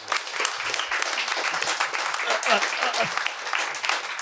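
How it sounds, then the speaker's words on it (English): Clapping from a small audience at a bookshop author event, a busy steady patter of hands with voices murmuring underneath. "So I think a round of applause."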